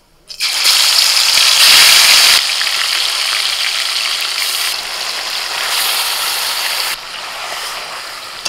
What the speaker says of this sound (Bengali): বাকি তেলের মধ্যে চিকেন দিয়ে দিচ্ছি।